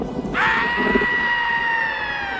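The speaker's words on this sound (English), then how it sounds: "you scream like a girl. Do it like this." A loud, sustained scream from a dark comic-book film starts abruptly and holds steady for about two seconds over a low background rumble.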